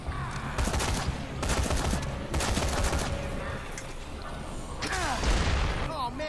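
Gunfire in Dead Rising 3 aimed at zombies, with repeated bursts of shots and mechanical clatter amid game noise, loud and close.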